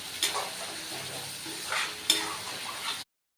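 Chicken pieces and raw potato frying in a spice paste, a steady sizzle with a few sharp stirring scrapes and clatters of a utensil against the pan, close up and with no voices.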